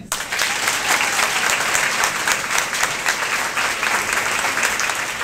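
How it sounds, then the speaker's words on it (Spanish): Dense, sustained applause from a large audience at a Partido Revolucionario Moderno women's political rally in Puerto Plata, steady and loud throughout with no speech over it. "¡Que se sienta el aplauso para la mujer que nos representará en el Senado!"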